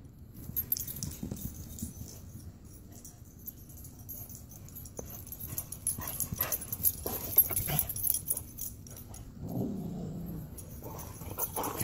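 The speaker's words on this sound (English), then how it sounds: "stop growling at everybody" A dog named Thomas growls low and steadily during rough play with another dog, with occasional yips and jangling tags over a faint background hiss.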